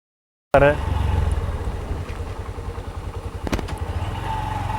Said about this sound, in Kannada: ಇವತ್ತು ದಿನದಲ್ಲಿ ಎದುರ ಬೈಕ್ಗಳು ಬರ್ತಿದ್ದಾವೆ.